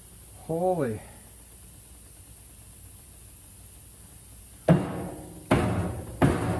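Hammer blows on the rear axle of a 1965 Ford Falcon, three sharp metallic strikes near the end ringing briefly, following a short voiced exclamation and a quiet stretch.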